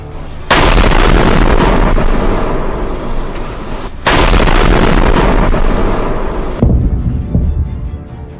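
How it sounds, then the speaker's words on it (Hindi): Missiles launch during an Iranian attack on Israel, heard as two loud, close, roaring blasts, each a sustained rushing thunder lasting several seconds before cutting off. "2 घंटे के अंदर ईरान दागने लगा सबसे खतरनाक मिसाइल।"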